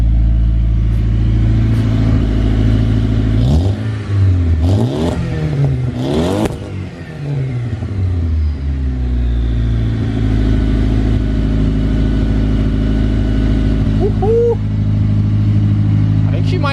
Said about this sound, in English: you can definitely hear the turbo spooling a little bit through the exhaust